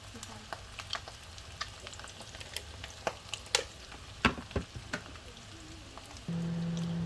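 Corned beef cutlets frying in bubbling oil in a pan, giving faint scattered crackles and pops against a quiet background, then a steady tone toward the end.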